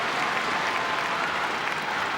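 A badminton arena crowd at the All England Open men's singles final applauds after a long rally, a thick, continuous roar of clapping from a large audience, loud and steady throughout.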